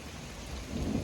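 Rain pours hard during a severe supercell thunderstorm over the Queen City, with a low thunder rumble swelling beneath it, dense, loud and continuous, no speech.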